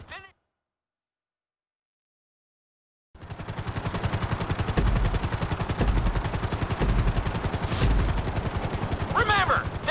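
A helicopter in GTA V flight school races for speed, its rotor thumping in a dense, steady rhythm after a brief burst and a few seconds of silence.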